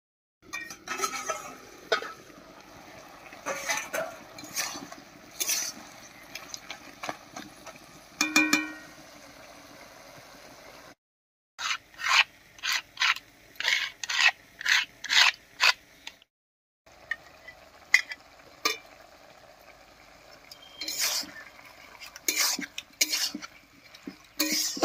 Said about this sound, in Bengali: মশলাটা দিয়ে খুব ভালো করে মিশিয়ে নিয়েছি।